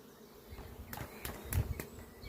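Honeybees hum in a three-frame queen-rearing starter box. The buzzing is faint and low, with a few closer passes rising briefly above it.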